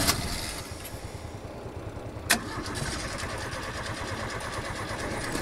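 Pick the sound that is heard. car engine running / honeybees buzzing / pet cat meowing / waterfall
car engine running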